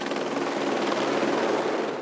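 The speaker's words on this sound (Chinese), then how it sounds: "圣米歇尔山顶直升机来回运送营架" A helicopter shuttles scaffolding to the summit of Mont-Saint-Michel, the medieval abbey island in Normandy's Bay of Saint-Malo, its loud, steady rotor roar filling the air without a break.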